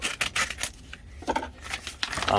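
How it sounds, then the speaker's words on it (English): Scissors cut across the top of a small paper envelope of seeds, giving a run of short crisp snips and paper rustles close up, with no talking. "get the envelope open, cut it across the top"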